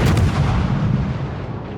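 Naval artillery gunfire in the World of Warships video game: a loud, booming cannon blast at the start rolling into a sustained low rumble that fades slowly, heard alone.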